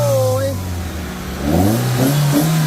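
Toyota Soluna car engine revving hard, a rising roar that swells and falls in bursts, close and loud, with excited voices exclaiming over it.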